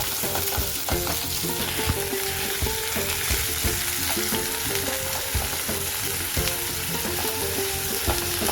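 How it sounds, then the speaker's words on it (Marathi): Chopped onion sizzles and fries steadily in a pan for dill (shepu) bhaji, a continuous close crackle with occasional scrape of stirring and no talking. "कांदा 2 मिनिटं परतवून घेतो छान।"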